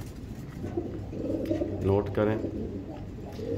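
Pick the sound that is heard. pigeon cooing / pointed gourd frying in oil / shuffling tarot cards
pigeon cooing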